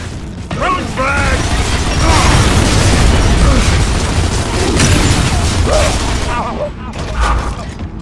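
Gunfire and booming blasts from a frag grenade in a Gears of War: Judgment free-for-all multiplayer match, with a dense, continuous barrage of bursts and mechanical clatter over game sounds.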